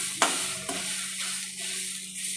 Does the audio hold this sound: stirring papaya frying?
yes